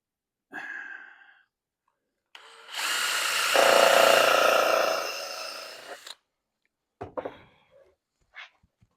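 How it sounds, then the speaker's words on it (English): A power drill drives a 2-inch screw into a wooden tenon-cutting jig with one sustained, loud whirring run lasting about three seconds, preceded by a shorter burst and followed by a few brief clicks and taps nearby. "Now I'm going to use 4 2-inch screws and simply run those in."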